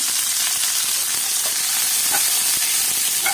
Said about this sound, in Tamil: பூண்டு வதங்கினதும் வெங்காயம் சேர்த்துக்கலாம்